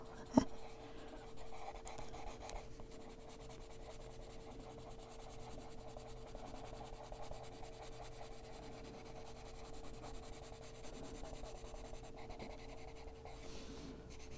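Colored pencil strokes scratching across paper in an adult coloring book, a steady, close, soft scraping that runs without pause over a faint constant electrical hum, with no talking.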